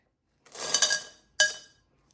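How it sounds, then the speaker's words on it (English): Cheap glass decorative beads clink and rattle into a pot in two quick, close bursts, the second shorter, with no talking. "I also have some of these dollar glass beads."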